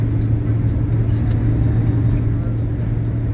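Car driving along, heard as a steady low engine drone and road rumble from inside the cabin, loud and unbroken for the whole stretch.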